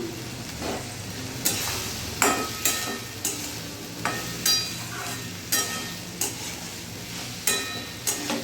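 Boiled figs frying in oily spice masala for a vegetarian fig curry, a low sizzle punctuated by roughly a dozen sharp clinks of a spoon against the pot at a steady stirring pace.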